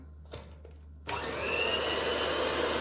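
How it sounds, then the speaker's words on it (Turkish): An electric mixer beats eggs and granulated sugar in a bowl until foamy for a soft chocolate tart cake. A couple of light knocks come first, then the motor kicks in abruptly with a loud, steady whir that continues unbroken. "Öncelikle kasenin içerisine yumurtayı ve toz şekeri alıp 5 dakika kadar yumurta ve şeker köpük köpük olana kadar çırpıyorum."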